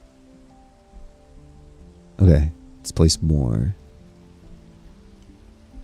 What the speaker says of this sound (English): The fact that it's raining actually kind of sucks.